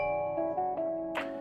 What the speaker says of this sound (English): there's the doorbell